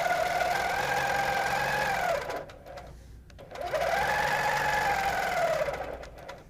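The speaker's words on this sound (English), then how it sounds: "So I'm going to stitch across here." A sewing machine stitches a quilt along a straight ruler, running steadily for about two seconds, pausing briefly, then running again at the same fast hum, close and clear with no talking.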